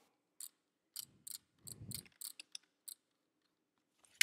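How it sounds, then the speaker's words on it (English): A computer mouse being drag clicked, sounding as a close, dry series of sharp little clicks in small uneven clusters against silence, with a faint low rustle partway through. "Do you like my drag clicking?"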